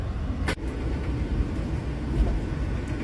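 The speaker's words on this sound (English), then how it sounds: "the train ride is so loud I wish I would have brought hearing protection for my dog" Interior of an old Amtrak passenger car during a ride, filled with loud, steady low rumble and broadband road-like noise throughout, with one brief sharp click or clack near the start.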